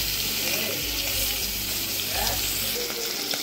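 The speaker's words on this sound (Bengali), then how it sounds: "মাছগুলো ভাজা হয়ে গিয়েছে।" Climbing perch fish frying in hot oil in a pan, a steady close sizzle throughout with a spatula occasionally turning and straightening the fish.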